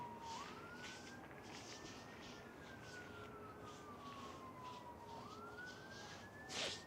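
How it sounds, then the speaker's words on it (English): Distant emergency vehicle sirens near Manchester Airport wail in long slow rising and falling sweeps, faint and steady over background noise. "With all these sirens, there must be something going on nearby."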